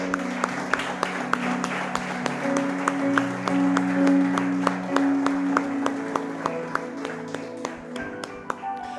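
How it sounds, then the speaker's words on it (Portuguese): A church congregation applauds at the close of a service, a mix of scattered and rhythmic clapping with distinct sharp claps on a steady beat, over sustained organ or keyboard tones and faint murmuring. "Você pode aplaudir ao Senhor?"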